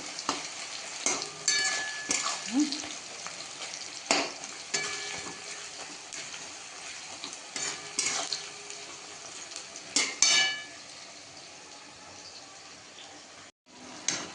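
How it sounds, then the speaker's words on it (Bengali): Onions fry in oil with a steady sizzle, with occasional scraping stirs and utensil knocks against the pan, continuous and close. "তেলে পেঁয়াজ দিয়ে দিয়েছি হ্যাঁ, পেঁয়াজগুলো একটু ভাজা ভাজা লাল লাল হোক"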